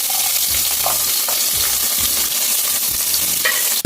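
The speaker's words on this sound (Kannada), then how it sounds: "ಎಣ್ಣೆ ಚೆನ್ನಾಗಿ ಕಾದ್ಮೇಲೆ ಇದಕ್ಕೆ ಸಾಸಿವೆ ಹಾಕೋತಾ ಇದ್ದೀನಿ. ನೋಡಿ ಪಟ ಅಂತ ಕುದೀತಾ ಇದೆ" Mustard seeds and chopped small onion fry in well-heated oil with a loud, steady sizzle and scattered popping crackles throughout, with no talking.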